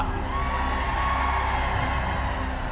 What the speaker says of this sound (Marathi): सगळे उभारून राहून जोरदार टाळ्या वाजवा